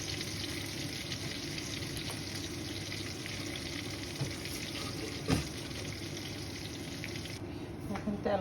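Oil heating in a cooking pot before whole garam masala, bay leaf, cinnamon, cloves and cardamom go in: a steady, close, even sizzle and hiss runs throughout, with a few faint clinks and a brief louder clatter partway through.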